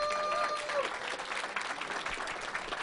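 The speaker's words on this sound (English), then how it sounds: "I think they deserve another round of applause." Steady audience applause at a miniature painting competition event, a dense wash of many hands clapping at once, sustained throughout with a few brief tonal tones near the start.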